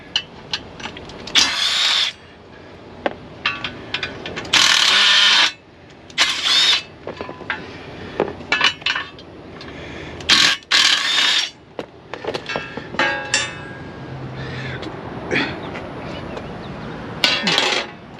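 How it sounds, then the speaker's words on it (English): Power drill bursts cutting into the metal seat base of a Peterbilt 579 truck seat, whining in short starts and stops with clinks and handling noise between runs, close up. "So we'll pull these out and we'll drill this out a little bit."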